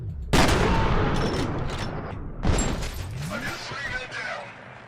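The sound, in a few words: shotgun fire in the video game F.E.A.R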